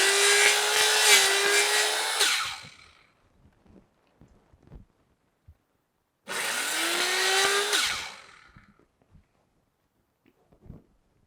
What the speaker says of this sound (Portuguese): Vou decepar ele bem aqui, ó. Dá trabalho, porque ele é mais grosso que a serra.